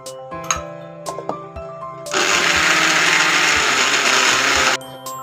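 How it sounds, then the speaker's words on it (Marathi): A mixer grinder roars loudly for about two and a half seconds while grinding peanut chutney with extra Malvani chilli masala, preceded and followed by light kitchen clinks and taps. "आता आपण हे एकदम बारीक असं मिक्सरला वाटून घेऊ."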